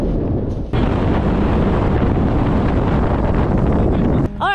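Wind buffets the microphone at a riverside camp on a chilly morning, a loud, steady roaring rumble that fills the whole stretch with no clear voices.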